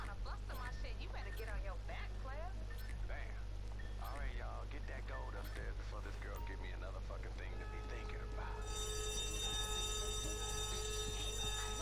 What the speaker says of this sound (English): The alarms go off.